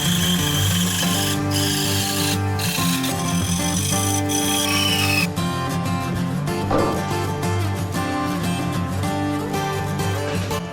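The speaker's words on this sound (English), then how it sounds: "We're going to cut two 3-foot sections." A handsaw works back and forth through a wooden 2x4 clamped in a vise, cutting it into three-foot sections with a loud, steady rasping stroke that stops and restarts partway through.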